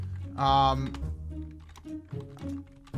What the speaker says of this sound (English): just typing something of much importance